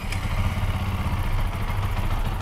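A Benelli 180S motorcycle engine runs steadily nearby, a low chugging idle with light mechanical clatter and no talking.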